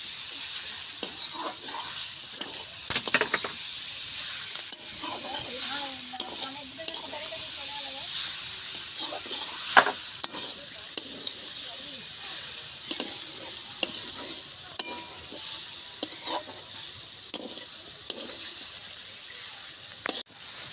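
Kashmiri red chili powder fries in hot oil in a pan while a cabbage curry is cooked. A loud, constant sizzle runs throughout, with frequent scraping and clinking of stirring.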